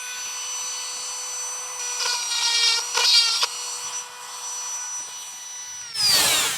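A drill bit bores into aluminum during a LED light install on a Chevy van, giving a steady high whine with harmonic tones that bog down in short bursts as the bit bites, then rises in pitch at the end as the bit breaks through.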